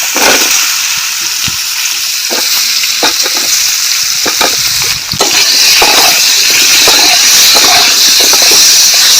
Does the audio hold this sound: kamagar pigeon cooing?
no